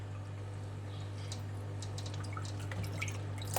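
Water runs and drips through a length of salted dried sausage casing during washing. The trickle is close and continuous, with small splashy drips over a faint constant hum.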